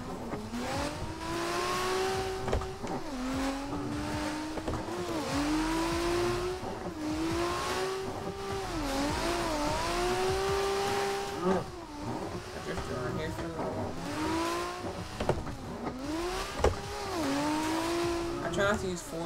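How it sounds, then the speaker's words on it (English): A car drifting in Forza Horizon 2: the engine holds a high, wavering rev that dips and climbs repeatedly as the car slides, with tire squeal mixed in, steady throughout while someone talks over it. "I either drift around this thing for a little while."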